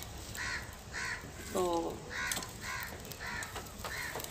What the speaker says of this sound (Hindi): आवाज़ सुने कौवे की, चिड़ियों की, कितनी प्यारी आवाज़ें आ रही हैं